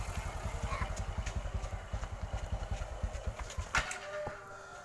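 A motorcycle engine, freshly repaired after a worn cylinder bore, idles close by with an even, smooth putt-putt rhythm before the firing fades out near the end.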